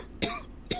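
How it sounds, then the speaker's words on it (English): Two quick, soft coughs, a short pause between them, close and fairly quiet. "my crystal's supposed to protect me from my coughs"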